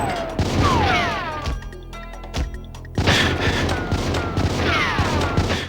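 Akimbo hand cannons fire in GoldenEye 007 in loud, sharp bursts of rapid shots, with sweeping game music underneath and a short pause between volleys.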